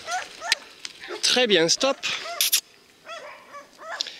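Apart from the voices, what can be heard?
dogs barking loudly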